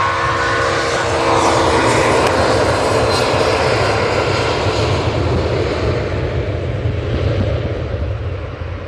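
Loud, steady roar of airliner jet engines at an airport, with an Emirates A380 among the planes, holding a broad rumble throughout and easing slightly toward the end.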